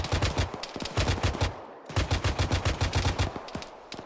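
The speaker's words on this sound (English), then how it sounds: "So they're utilizing the 50 cal now." Heavy bursts from a .50 cal machine gun in the Arma 3 video game, with rapid, loud, regular shots in two long strings split by a short pause. No voices are heard.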